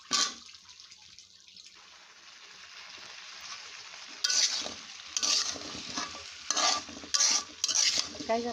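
Pumpkin frying with prawns, garlic and spices in a pan: a steady soft sizzle at first, then louder, irregular scraping and stirring strokes in the second half.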